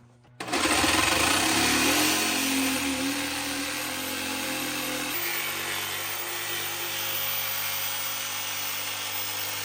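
A jigsaw cuts a circular hole through the metal of a Sprinter van, starting abruptly with a loud, steady whining buzz that holds close and continuous for several seconds, its pitch shifting slightly midway.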